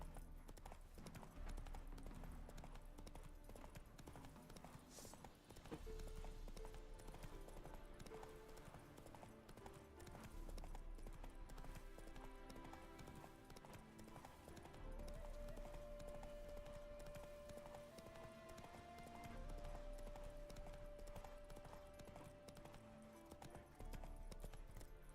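A horse gallops in The Witcher 3, its hooves drumming in a steady, continuous rhythm under swelling orchestral game music.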